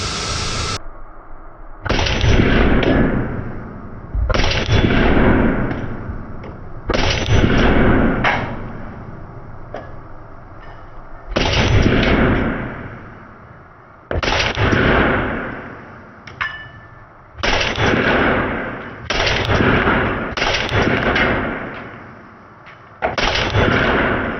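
Bursts of automatic fire from a Thompson 1927A1 submachine gun, several long loud strings of rapid shots with brief pauses between them, close and dominant with no talk.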